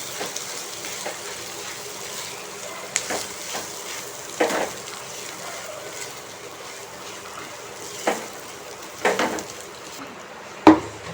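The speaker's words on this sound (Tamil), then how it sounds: "இப்போ இது இதில் சேர்த்துக்கலாம். நல்லா கலந்து விட்டுக்கலாம்." Mashed boiled potatoes being stirred into a masala in a cooking pan for masala idli, heard as soft scraping and occasional knocks of a spoon against the pan over a low background hiss.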